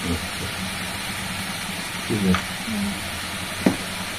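Panch phoron spices and a dried red chilli tempering in hot oil give a soft sizzle, with a few sharper pops and spits standing out above a steady kitchen background.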